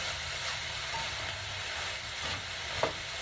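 Raw kale wilting in a hot pan, giving a steady, close frying sizzle with light stirring and a brief sharper crackle near the end.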